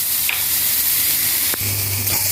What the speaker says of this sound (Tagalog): So, dry roast. Wala siyang oil.